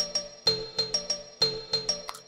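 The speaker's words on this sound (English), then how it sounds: "I have some more bells from Orianna" A sampled bell in a music remix rings out in a steady rhythmic pattern, about a dozen bright, clean ding strikes with short decays, close and clear with nothing under them.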